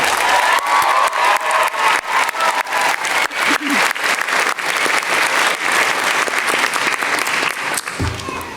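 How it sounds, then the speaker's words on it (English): Loud, close applause from a master's commencement audience honoring family, friends and faculty mentors, thick clapping with scattered cheers and whoops that ends abruptly. "Let's give them a round of applause too."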